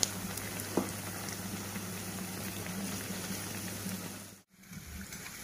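Spinach bonda fritters deep-fry in oil over a slow flame, giving a steady close bubbling sizzle that runs continuously, with a brief dropout near the end before resuming.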